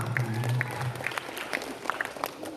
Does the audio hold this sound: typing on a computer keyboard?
no